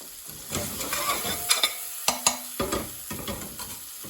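Spices sizzle steadily in a hot pan for a black pepper chicken curry while a utensil stirs and scrapes in irregular strokes, with a couple of sharper knocks against the pan, close and clear with no talking.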